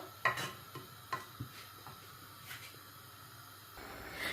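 A spoon scraping and stirring a thick mothagam mixture in a clay pot, soft irregular scrapes and taps with a faint sizzle underneath, quiet and close.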